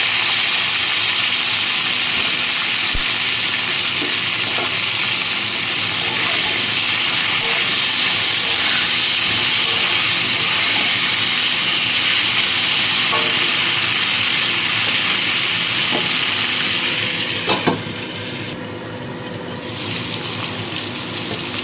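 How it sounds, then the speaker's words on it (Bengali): Cauliflower florets fry in hot oil, producing a continuous, close, even hiss of bubbling oil that holds steady for a long stretch before easing slightly and becoming softer near the end. "এবার এই তেলের মধ্যেই দিয়ে দেবো কপিগুলোকে কপিগুলোকে ভেজে নিয়ে তুলে রাখবো"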